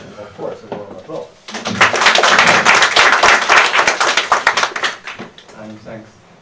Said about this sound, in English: With, of course, a warm applause.